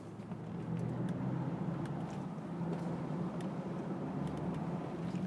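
A 2022 BMW i4 M50 electric car, 544 hp with adaptive dampers, drives along a mountain road, giving a steady low road and tyre rumble with wind noise that holds constant throughout, no voices.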